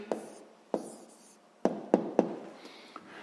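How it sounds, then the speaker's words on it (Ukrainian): A pen writes an answer on paper during a sixth-grade maths exercise, making soft scratchy strokes with several sharp taps as it touches down, close and quiet with no talk. "записуємо відповідь"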